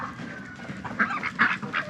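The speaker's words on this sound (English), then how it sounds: "My husband is feeding the chickens." Chickens being fed in a backyard coop in early spring: a few short squawks and honking calls rise over a low, busy rustle of scratching and movement, moderately close.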